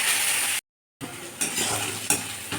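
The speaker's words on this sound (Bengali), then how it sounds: "এরপর মশলাটা আবার ভালো করে কষিয়ে নেব।" Spice masala with tomato sizzles in a pan as it is sautéed, with steady frying hiss broken by a short gap and a few scraping stirs, close and moderately loud with no voices.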